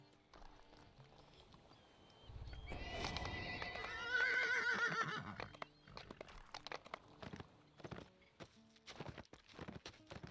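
A horse whinnies loudly and shrilly in the online game Dungeons & Dragons Online, followed by scattered clip-clopping hooves and light rustling noises.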